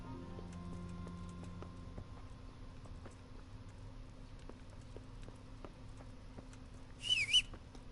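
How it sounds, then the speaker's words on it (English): Clip-clop of horse hooves in the medieval video game Kingdom Come Deliverance, a soft even rhythm under a low ambient hum, with a brief whistle-like call near the end. "I didn't want my horse to come here."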